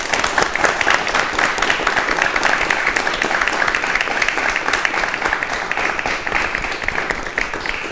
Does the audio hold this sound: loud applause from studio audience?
yes